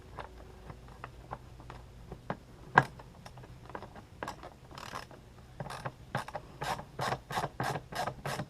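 Ratchet clicking while loosening fasteners on the air filter housing of a 2007 Buick Lucerne: faint scattered clicks at first, then a steady run of sharper, closer ratcheting strokes in quick succession.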